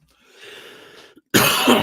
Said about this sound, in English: Whew, jeez, coughing up a lung